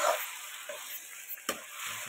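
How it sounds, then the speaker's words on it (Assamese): Goat mutton curry is stirred in a kadai, a soft scraping of the spoon over a steady low sizzle, with one sharper knock of the spoon against the pan midway. "লৰাই থাকিব লাগিব যাতে কেৰাহীত লাগি নধৰে।"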